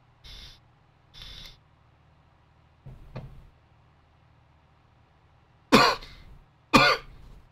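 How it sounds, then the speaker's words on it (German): A man coughs several times in short separate bursts, close to the microphone, with quiet pauses between them and a faint hum underneath. "Muss ein bisschen Husten aufnehmen, nicht?"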